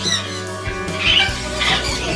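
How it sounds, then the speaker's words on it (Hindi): A citron cockatoo in a rooftop bird setup gives a few loud, harsh squawks close by, set against a busy background of other birds and ambient noise. "और ये सिट्रॉन कोकाटू है"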